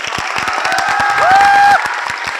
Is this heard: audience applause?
yes